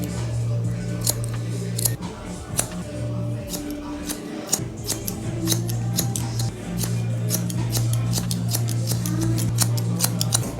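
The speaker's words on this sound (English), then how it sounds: "So we just cut this right here." Scissors snip repeatedly at hair while a mullet is being cut in a barber setting, producing crisp close metallic clicks in an irregular rhythm over a steady low background hum.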